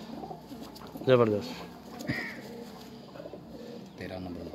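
Pigeons coo in short low bursts among birds offered for sale, with a voice briefly speaking over the calls and faint background noise throughout.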